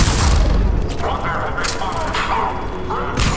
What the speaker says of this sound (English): I don't know whose grenade that was